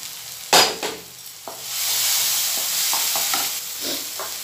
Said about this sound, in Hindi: मसाला हमारा फ्राई नहीं हुआ है, तो इसको अच्छी तरह से और फ्राई करेंगे हम